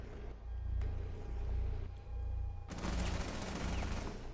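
Rapid weapon fire in Rainbow Six Siege, heard as a muffled, low rumbling stream of shots that gives way to a brighter, noisier burst of fire near the end.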